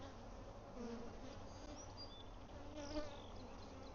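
Honey bees buzzing steadily during a hive inspection, a faint, continuous hum with a few individual bees droning past closer, no talk.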